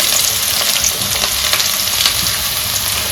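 Two chopped onions frying in oil with whole spices give off a steady, dense sizzle that stays loud and close throughout, with faint stirring scrapes and no voices.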